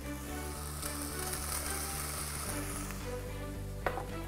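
Whole shallots tumble into a pan of browning meat for a Ramadan kebab, setting off a steady, close sizzle and frying hiss that carries on without pause, with no talk.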